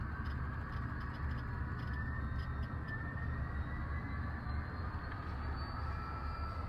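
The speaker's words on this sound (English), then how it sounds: "First train going around the entire layout." A model train runs around a hobby layout track, giving a faint, steady rolling rumble and whir that continues without a break, with no talking.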